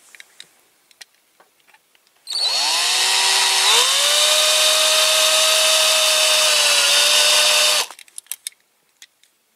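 A power drill runs continuously for about five seconds during restoration of a Siku Magirus Deutz toy concrete mixer, with a loud, steady high whine that dips slightly in pitch as it bites, preceded and followed by small knocks.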